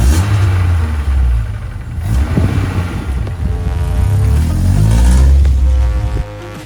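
Rover 25 GTi hot hatch engine running steadily on the road, a continuous low rumble with rising and falling revs through gear changes, close and loud throughout, no voices.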